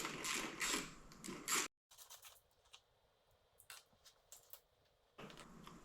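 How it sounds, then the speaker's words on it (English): Ratcheting clicks and metallic turning as a 10 mm wrench loosens a bolt on a 1994 Suzuki Sidekick during a radiator replacement, in short bursts with a pause, fairly faint and close. "we're going to use our 10 mil, and we're going to loosen it off"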